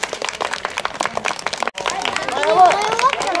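Audience clapping to welcome children entering an opening-fire event at a kids' forest plaza in Akitakata, with steady claps mixed with crowd chatter and excited voices that rise near the end.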